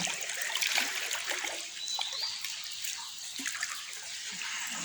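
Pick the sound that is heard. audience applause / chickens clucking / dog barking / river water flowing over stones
river water flowing over stones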